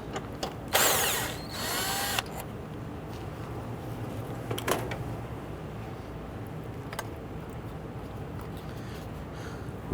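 A power tool loosens and removes a 10mm bolt holding the airbox to a bracket on an Infiniti G37, giving one loud burst of about a second and a half, then a few brief clicks and tool noises.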